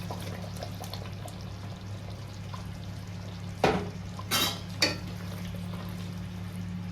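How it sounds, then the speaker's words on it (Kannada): Fried paneer and capsicum tipped into a boiling gravy for paneer kolhapuri, three short splashing plops over a steady low hum of the stove. "ಈಗ ಗ್ರೇವಿ ಕುದಿಕೊಂಡು ಇದು ಫ್ರೈ ಮಾಡಿದ್ದು ಪನ್ನೀರ್ ಕ್ಯಾಪ್ಸಿಕಮ್ ಎಲ್ಲ ಹಾಕ್ತಾ ಇದ್ದೇನೆ"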